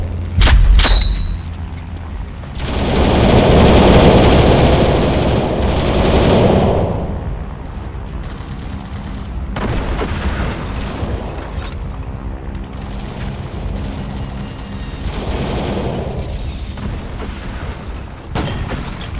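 Loud gunfire and booming blasts in the World War Heroes WW3 shooter game, dense volleys of rapid shots and explosions rolling on almost continuously, with no talking.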